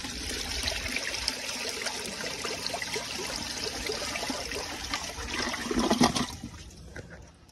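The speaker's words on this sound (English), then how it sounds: "It goes down the siphon, and then it goes down to do its little blowout, little siphon, and then that's when the flapper stops." A 2002 Sanitarios Maracay toilet flushes through its siphon with a loud, continuous rush of water that swells near the end, then quickly drops away into a short trickle.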